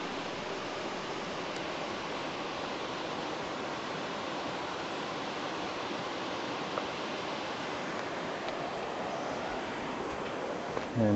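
River water at Yankee Jims rushes in a steady, broadband wash heard from a bridge above, continuous and moderately distant with no voices.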